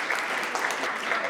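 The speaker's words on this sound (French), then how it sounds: "vous pouvez applaudir très fort Mickaïa s'il vous plaît sur le tapis." Audience applause at a talk about children's schedules, a short, even wash of many clapping hands at moderate loudness.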